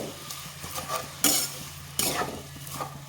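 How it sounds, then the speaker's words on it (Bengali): A spoon stirs semai vermicelli as sugared milk is added in a pan for jorda shemai, giving soft scraping and sizzling with two sharper bursts of hiss partway through; no one speaks. "আর নাড়িয়ে চাড়িয়ে দিতে হবে"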